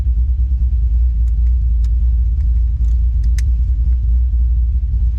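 A car engine rumbles low and steady at the start of a drift ride, heard from inside the cabin, with a few faint clicks and knocks over the drone.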